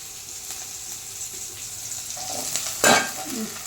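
Blood fry being sautéed with onion and green chilli in a pan, a soft sizzle with scraping stirs, ending in a louder clatter of the spoon near the end.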